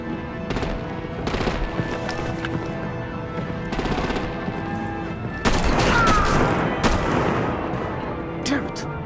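Gunfire and artillery in the video game Batman: The Enemy Within, scattered sharp shots and bursts followed by a heavy booming barrage that swells louder midway and keeps rumbling.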